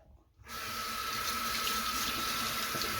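Tap water runs steadily into a sink while a makeup brush is washed with soap, a continuous close rushing stream after a brief quiet start.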